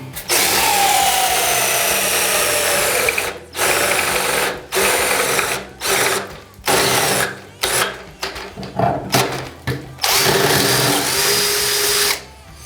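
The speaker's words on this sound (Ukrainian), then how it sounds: "Давайте досверлимо." A Worcraft cordless drill driver with a weakening battery drills into wood in repeated loud, close bursts of straining motor whine, stopping and restarting again and again.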